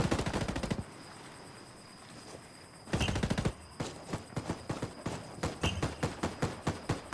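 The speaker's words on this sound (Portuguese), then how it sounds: "estão atirando!" Bursts of rapid automatic gunfire in a Ghost PvP shooter video game, a long volley, a pause, then dense repeated shots, fairly quiet overall.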